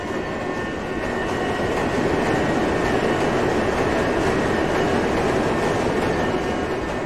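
A loud, steady rumble of Minecraft subway trains rolling through a tunnel, overlapping track sounds clattering, building and sustaining as they pass each other close by.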